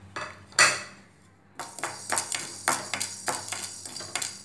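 Black peppercorns dry roasted in a pan for paruppu podi: a metal spoon scrapes and clinks against the pan in a quick run of repeated strokes after one sharp opening knock.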